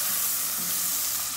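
Chopped shrimp browning in a hot pan, a steady close hiss of sizzling oil running unbroken for the whole moment.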